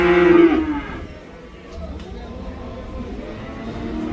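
Cattle and calves at a livestock market give a loud, close moo at the start, then settle into a murmur of livestock and distant crowd noise, with people talking faintly in the background.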